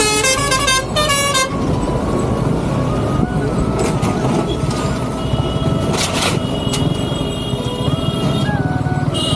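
A truck honks its horn repeatedly on a road in a played-back video, with loud tonal blasts over heavy traffic rumble. Short beeping and further horn bursts come through near the start and middle.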